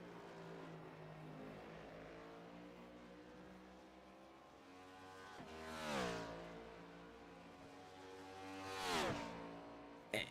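A race car in a racing video game rolls off pit road at a road-course Grand Prix at The Glen, its engine droning steadily, then two louder passes sweep by with rising and falling pitch.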